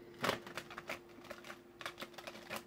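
Quick bursts of crisp card riffling and flicking, close by, coming in several short clusters with brief pauses between them.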